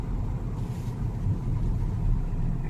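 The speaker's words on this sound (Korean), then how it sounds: "일단 주행 소음은 K7 하이브리드에 비해서 조금 있는 편입니다." Steady low road rumble and engine hum inside a moving Kia K7 Premier diesel car, a continuous muffled drone with faint tire noise and no talking.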